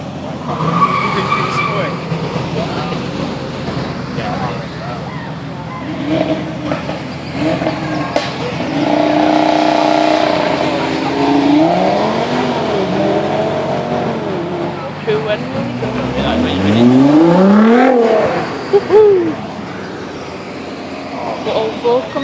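A Nissan GT-R supercar drives past at a car meet in Preston, its engine rising to a loud close pass with a sweeping pitch change, amid crowd noise and excited talk from onlookers.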